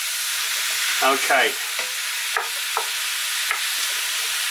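Garlic goes into a hot pan for a pork and pineapple stew and sizzles steadily with a bright frying hiss, with brief stirring scrapes, a short spoken word and a few faint clicks.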